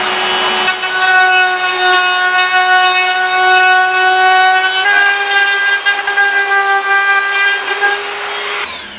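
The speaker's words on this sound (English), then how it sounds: "Just to clean up that last little bit on the ledge, I use a conical burr for a good fit." A rotary tool with a conical burr whines at a steady high pitch, loud and close, as it trims wood on the neck tenon ledge of a Martin guitar during a neck reset.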